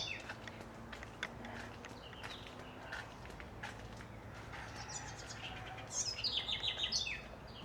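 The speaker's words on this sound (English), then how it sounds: "Can you hear the sounds of the birds early in the morning?" Birds chirp and sing at a distance in the early morning over a quiet tropical garden in Guyana, with a brighter burst of trilling song near the end.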